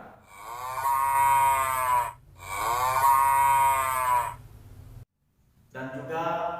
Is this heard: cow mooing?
yes